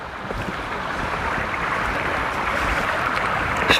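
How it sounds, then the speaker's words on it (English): A river stream along the Appalachian Trail rushes in a loud, steady broadband wash, heard up close with no talking. "Let me show you what the river looks like here."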